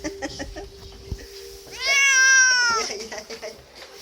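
An angry cat lets out one long, loud, drawn-out meow close by, with quieter household sounds and a voice around it.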